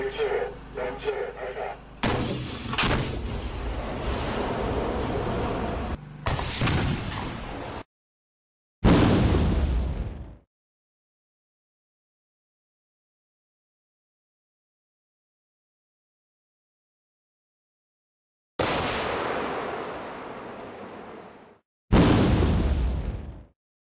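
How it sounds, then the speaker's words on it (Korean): An active protection system intercepts Russian RPG-7 anti-tank rockets in a summer test, producing loud, booming explosions in separate bursts with sharp onsets and decaying roars, broken by long silent gaps. "엄청나게 빠르게 날아오는 RPG-7 대전차 로켓을 확실하게 저지하는 모습을 보이는데 완전 요격이 안 되더라도 방어탄의 폭발로 인해 탄의 궤도를 바꿀 수 있습니다."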